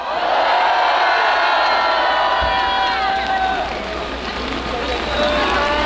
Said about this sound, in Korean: 함성으로 함성 부탁드리겠습니다.